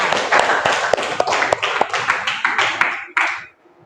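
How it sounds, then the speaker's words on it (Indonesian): A school class claps hands in a quick rhythmic pattern, sharp bursts repeating over a few seconds before ending in one final clap. "tepuk tangan untuk kita semua"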